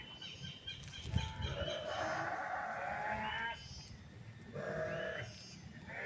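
Goats in a villagers' pen in an abandoned village bleat in long, drawn-out calls, one after another, at a moderate distance, over faint background rustle.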